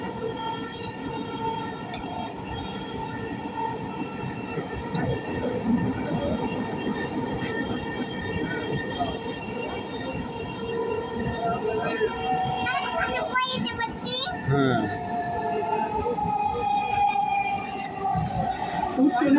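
Inside a moving metro rail train bound for Uttara North, a steady loud rumble and whine with tonal hum and occasional rattles, continuous throughout while people talk and a brief reply is spoken.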